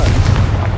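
A Confringo explosion spell going off in Hogwarts Legacy gameplay: a short, loud, heavy blast with a low rumbling body that fills the moment without any gap.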